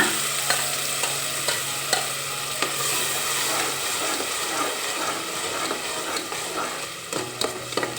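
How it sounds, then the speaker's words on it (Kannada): Chicken masala stirred and frying in a pan, a steady close sizzle with repeated scraping clicks of the spoon against the pan and a low hum underneath, no voices. "ಈ ಟೈಮ್ನಲ್ಲೇ ಚೆನ್ನಾಗಿ ಫ್ರೈ ಮಾಡ್ಕೊಂಡ್ಬಿಡೋಣ"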